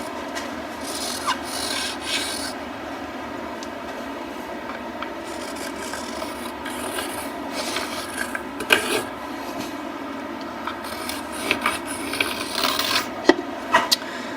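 Wood being trimmed on a woodturning lathe, a continuous rough rubbing, scraping hiss of the tool on the spinning piece, steady and close for the whole stretch with a few sharper scrapes toward the end, no voices.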